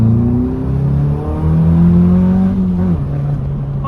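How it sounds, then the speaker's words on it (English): A Caterham Seven 270S engine drones loudly from close by while driving, with its pitch climbing steadily as it revs, then dipping briefly around a gear change before settling back into a strong, buzzing tone. "you cannot get enough of an engine that sounds like this."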